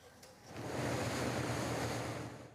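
Rushing water of the Rabnabad channel near the Payra sea port under construction on the Andharmanik river, Patuakhali, heard as a steady broadband wash that swells after the first half second and holds, with no voices.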